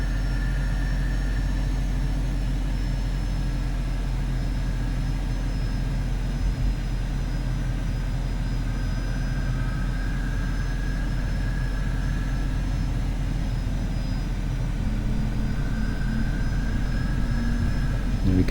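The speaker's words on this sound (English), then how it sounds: "Yeah, the engine sounds are really amazing." Learjet 35A jet engines in Microsoft Flight Simulator 2024, a constant low droning hum with steady tonal whines rising and falling slightly, loud and unbroken for the whole stretch.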